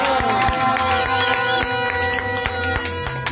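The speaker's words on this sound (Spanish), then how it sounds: "Un aplauso" A loud crowd cheers and applauds at an outdoor protest rally of artists against Guatemala's attorney general, with dense clapping, shouts and music-like tones running steadily throughout.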